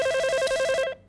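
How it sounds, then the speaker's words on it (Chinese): A telephone rings in a home, a steady pulsing electronic ringtone repeating close and clear for about a second before cutting off. "电话"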